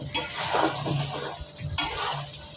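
Beef being stir-fried in a pan, a close wet sizzle with stirring and scraping, dipping briefly midway before the frying noise swells again.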